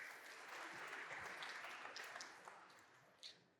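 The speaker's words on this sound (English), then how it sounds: "a big applause for him" Applause from a conference audience welcoming a presenter to the stage at a startup pitch competition, a dense wash of clapping that slowly fades, with a few louder claps near the end.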